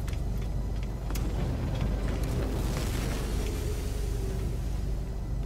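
Spaceship lifting off in the No Man's Sky video game, a steady, dense, rumbling roar with a rising hiss, moderately loud, with no talk.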